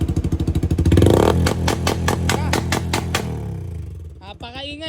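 A Yamaha Sniper 155 motorcycle fitted with an NK ECU tune revs hard up close, its loud engine climbing through a run of sharp throttle blips and popping bursts before dropping back to idle, with voices talking over it.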